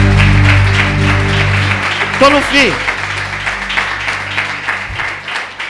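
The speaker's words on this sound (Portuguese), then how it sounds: "Você pode aplaudir ao Senhor?" Congregation applause during a Portuguese-language church sermon, a broad steady wash of clapping that runs through the clip and thins toward the end, with a voice speaking briefly over it.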